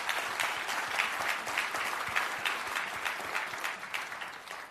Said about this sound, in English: give Coleman Lydon a round of applause